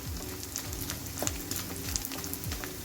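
Pieces of edible gum (gond) frying in hot ghee for traditional gond laddu, a steady sizzle with scattered crackles and pops and a few light utensil knocks, close and alone.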